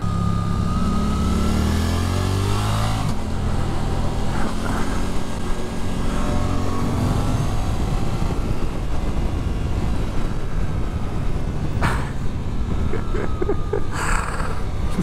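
A Suzuki GSX-8S motorcycle accelerates hard out of corners, its engine droning loudly and steadily with rising and falling pitch sweeps under constant wind rush, heard from the rider's position.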